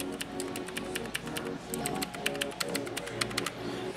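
A Razer mechanical keyboard's keys click in quick, uneven rapid bursts of sharp close taps, fairly quiet, with a faint background hum and no talking.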